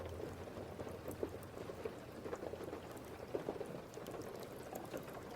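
Steady rain falls at a station by the entrance to Zora's Domain, a soft, continuous patter with faint scattered drops, quiet and unbroken with no voices.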